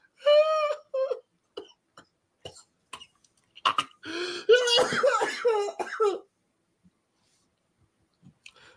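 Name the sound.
coughing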